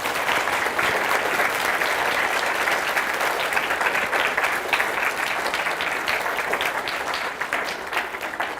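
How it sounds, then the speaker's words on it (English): An audience claps in a big, sustained round of applause for a school group at an amateur radio contact with the International Space Station in Axminster, a dense, even roar of many hands that tapers slightly near the end. "give them a nice big round of applause, please, everybody"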